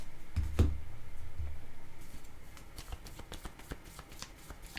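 Tarot cards are shuffled by hand, giving a soft flurry of papery riffles and slaps, with a few sharp card taps, close and fairly quiet.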